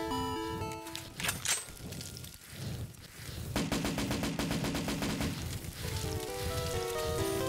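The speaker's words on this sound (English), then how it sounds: "give me a machine gun" Rapid automatic gunfire from a machine gun in Black Ops 3 Custom Zombies, long dense bursts mixed with game music and effects, loud and continuous through most of the stretch.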